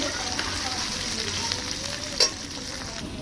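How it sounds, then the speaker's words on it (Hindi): Cut okra (bhindi) fries in oil with a constant, crackling sizzle close by, broken once by a brief metallic clink partway through. "तो इसी तरह हम फ्राई करेंगे।"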